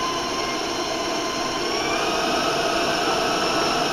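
Stand mixer with a paddle beating cranberry muffin batter at raised speed, a steady loud whirring motor hum with a rising pitch, continuous and close, no talking.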